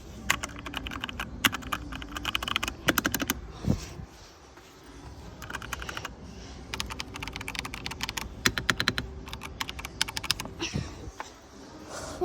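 Normal typing on a computer keyboard, a fast irregular stream of sharp close key clicks in bursts with brief pauses, loud and clear with no talking.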